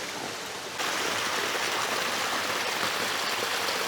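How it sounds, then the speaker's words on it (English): Waterfall near a mountain hut on Mount Somers, a steady roaring rush of falling water, close and loud, that swells after a brief quieter opening and continues unbroken. "not far from the hut you come across this stunning waterfall"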